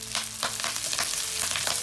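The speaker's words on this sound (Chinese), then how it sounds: "稍微翻炒一下。" Chopped vegetables stir-fried in a hot oiled wok, a steady close sizzle with rhythmic scraping and tossing strokes roughly every quarter second, no voices.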